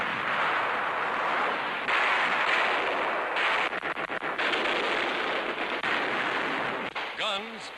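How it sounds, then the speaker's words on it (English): Camouflaged guns firing in fields during a 1943 wartime battle, a rapid cluster of sharp cracks and bursts over a continuous rumbling din, loud and close, in old film sound. "Guns, camouflaged in nearby fields, score a hit."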